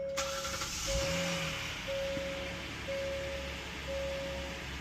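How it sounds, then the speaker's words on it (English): A 2021 Hyundai Palisade engine cranks and settles into a cold, high idle: a steady broadband rumble that runs throughout, with a repeating electronic warning chime sounding at regular intervals. "So now let's start this vehicle up."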